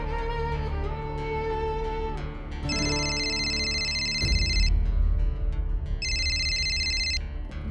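A phone ringtone trills in two bursts of electronic ringing, each about two seconds long, over a background of dramatic music.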